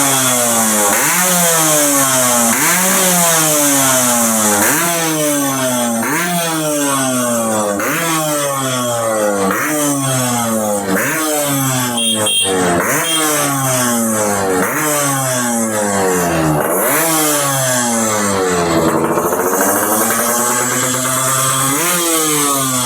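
A restored Yamaha RXZ two-stroke motorcycle engine running loud and close, revving repeatedly in rising and falling bursts over a steady buzzy idle, with no talk over it.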